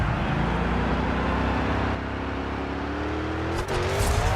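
The Megalodon monster truck's engine roars loudly and steadily during a nose wheelie at a freestyle event, its pitch rising toward the end before a brief dip and a renewed surge.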